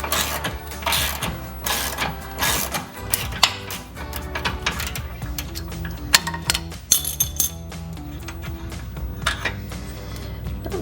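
A wrench working loose an 8mm bolt near the steering rack while installing front lower A-arms on a 1994-2004 Ford Mustang: a rapid series of sharp metallic clicks and clanks in uneven bursts, close up, with no talking.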